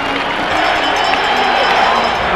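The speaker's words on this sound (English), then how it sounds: "The crowd really getting stirred up now on second down and 7." A packed football stadium crowd at a 1999 Hamilton Tiger-Cats game roars in a steady, dense wash of cheering and shouting that swells slightly toward the end, filling the whole stretch without a break.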